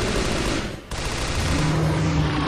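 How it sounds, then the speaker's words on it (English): Rapid bursts of gunfire from the video game Shadows of the Damned, loud and dense throughout, with a brief break near the one-second mark before the shooting resumes. "Can I just straight up shoot it then?"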